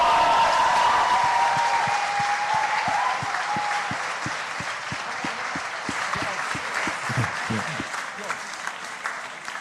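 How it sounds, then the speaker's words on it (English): Sustained audience applause closing the Cambridge IV 2016 debate grand final, a dense room-filling clap with individual hand claps standing out rhythmically near the front, gradually thinning toward the end; a voice briefly speaks early on. "give one more round of applause for an excellent final"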